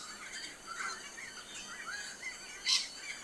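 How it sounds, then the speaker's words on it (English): Birds chirp and twitter outdoors, faint and continuous, with one sharper, louder call near the end, and no one speaks. "Can you hear the birds?"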